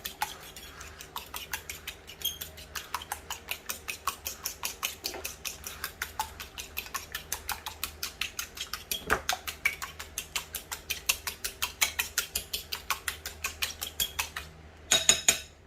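Eggs being whisked with salt and black pepper in a bowl, a fast, steady clatter of whisk or fork against the dish repeating for the whole stretch, close and fairly quiet, with no talking.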